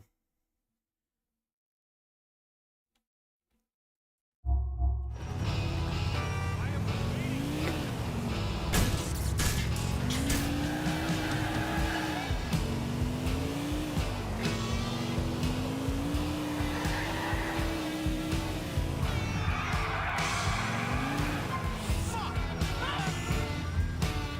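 A car is driven in the video game GTA 4, its engine droning steadily and rising and falling as it revs through gears. The sound starts after a few seconds of silence and continues with faint game noise underneath.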